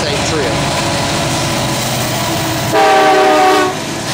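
A Norfolk Southern NS 221 intermodal freight train, about 12,100 feet long with SD70M and Dash 8 locomotives, rolls past Gastonia Station with loud, close rumbling and wheel clatter, rising briefly as a tonal horn-like note sounds.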